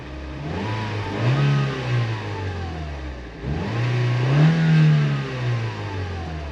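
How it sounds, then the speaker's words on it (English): A car engine revs up twice in strong swells, each climbing in pitch and then falling back to idle, loud and close with no talking over it. "Rev it more."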